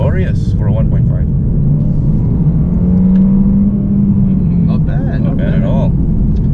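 A 1.5-litre turbo four in a facelifted Mercedes-Benz C200 sedan revs steadily from inside the car, a low rumbling drone rising briefly in pitch midway, with people talking over it.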